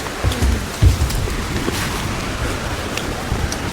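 Steady hiss of rain with wind and low rumbling gusts around Yehliu, Shifen and Jiufen in Taiwan, continuous throughout with no voices.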